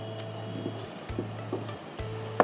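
Meat frying in a pan for achari mangsho, a steady low sizzle with intermittent stirring scrapes and a soft clink near the end, heard up close without speech.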